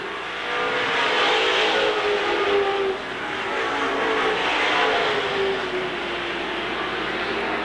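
Race cars at Seekonk Speedway in 1984 roar past on the final lap, a loud, continuous engine drone that swells and fades as the field passes, with no talk.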